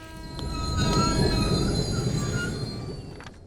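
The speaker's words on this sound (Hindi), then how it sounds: "अरे वो देखो, ट्रेन आ चुकी है।" A train pulls into a station with loud, sustained metallic wheel squeal over a deep rumbling roll, building and holding for several seconds before easing slightly, with no talk.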